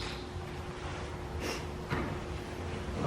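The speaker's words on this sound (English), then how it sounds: "when they do that nice long sneeze" A horse sneezes with a short, breathy snort burst near the middle of the clip, followed by a second softer snort, set against a steady background hum in an arena.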